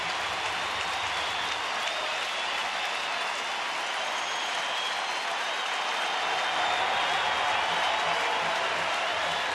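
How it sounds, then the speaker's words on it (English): Baseball crowd at a Angels at Rangers game in Texas, fans on their feet cheering and applauding, a steady dense roar of clapping and voices that swells slightly toward the end. "Now the crowd really getting on their feet to add to the atmosphere."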